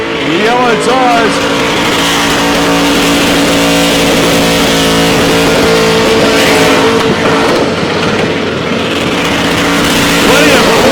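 A street drag car does a smoky burnout on yellow tyres at the Casterton Street Drags, its engine screaming continuously and bouncing off the rev limiter, loud and close, with crowd or commentary voices faintly underneath.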